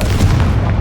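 A Confringo explosive spell in Hogwarts Legacy lands as a short, loud, low booming blast that stays dense and rumbling throughout.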